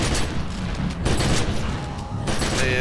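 Rapid gunfire from a fire-at-will ability in The Secret World: continuous dense volley of shots, loud and close, with a few stronger blasts rising above the barrage.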